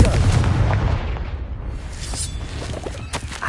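A Confringo fire spell detonates in Hogwarts Legacy, a heavy booming blast with a deep rumbling tail that fades over a few seconds, with no talk over it.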